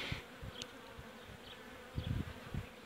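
Buckfast honey bees hum softly around an open hive during a spring inspection after winter, a faint continuous buzz with occasional closer fly-by swells and low thumps of handling.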